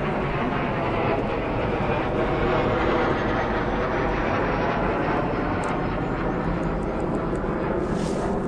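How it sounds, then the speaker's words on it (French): An airplane passes overhead outdoors during a portrait photo shoot, a loud, continuous broadband engine roar that stays steady throughout with no talking. "On va laisser passer l'avion."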